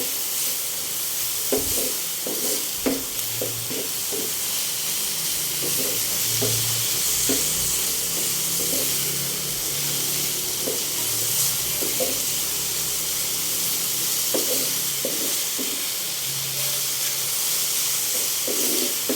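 Fresh backyard eggplant sautéing in a pan while being stirred: a continuous hot sizzle and hiss broken by repeated scraping and clinking strokes of the spoon, steady and close throughout.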